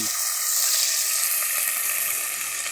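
Whole small potatoes hit hot oil in a pan for a village-style undhiyu, producing a steady, close, bright sizzling hiss that continues without a break.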